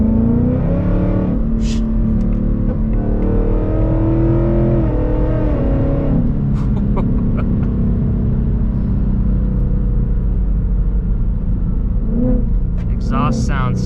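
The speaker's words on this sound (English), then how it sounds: "Exhaust sounds so good with the headers." A full-bolt-on Ford Mustang GT S650 V8 with aftermarket headers drones with a deep, rumbling exhaust that rises and falls while a person speaks over it, ending with a brief sharper blip.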